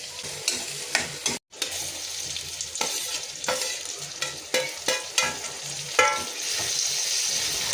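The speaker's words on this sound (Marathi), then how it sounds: "कढईमध्ये तेल तापल्यानंतर त्याच्यात 6 ते 7 हिरव्या मिरच्या, कढीपत्ता, 3 मीडियम साईजचे कांदे आणि कोथिंबीर टाकून चांगलं परतून घ्यायचं आहे" Green chillies, curry leaves, onions and coriander frying in hot oil in a kadhai, a loud continuous sizzle broken by repeated spatula scrapes and stirring knocks, with one brief gap of silence partway through.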